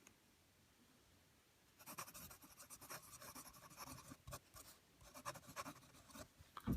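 A Lamy fine-nib fountain pen writing Bay State Blue ink on paper, close and quiet, with a string of soft scratchy strokes after a brief silence.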